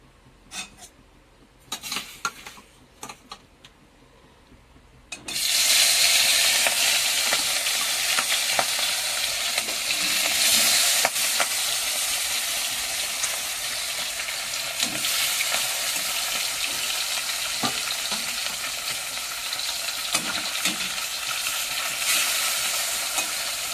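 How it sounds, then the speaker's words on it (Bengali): Fish dropped into hot oil in a wok burst into a loud, steady sizzle that holds for the rest of the stretch after a few brief clatters of preparation, close and unbroken, with no talking. "মাছগুলো ভেজে নেব।"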